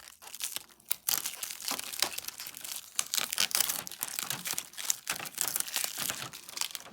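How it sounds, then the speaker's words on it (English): Packing tape is peeled off a new Epson ET-8550 printer, producing close, continuous crinkling and tearing rustles with irregular bursts and brief pauses. "you open this and take the tape off of here"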